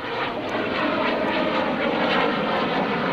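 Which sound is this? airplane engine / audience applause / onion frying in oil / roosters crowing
airplane engine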